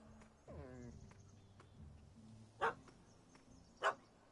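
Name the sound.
puppy barking in The Witcher 3 video game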